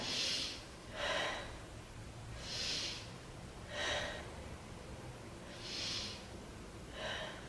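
Slow, deep breaths during a beginner yoga pose, three soft airy inhale-exhale pairs at an even, unhurried rhythm, close and quiet with no talking.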